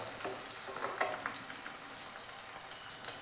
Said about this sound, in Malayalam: ഇഞ്ചിയും പച്ചമുളകും വെളുത്തുള്ളിയും ചെറുതായി റോസ്റ്റ് ആയിട്ടുണ്ട്